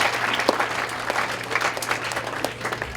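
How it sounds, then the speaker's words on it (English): Teen conference audience clapping for a speaker, a continuous round of many hands with a steady low hum beneath, moderately loud and sustained across the whole stretch. "let's give Genius a hand clap"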